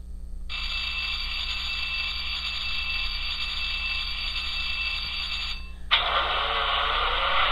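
Tsunami2 sound decoder playing a diesel locomotive prime mover start-up: a steady mechanical cranking drone runs for about five seconds, then a brief pause and the engine catching with a louder, rougher rumble, over a constant low hum, no talking.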